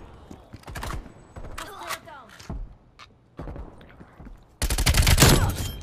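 Groza rifle fire in the video game Call of Duty Cold War comes as several close bursts of rapid shots between pauses, with the loudest volley near the end.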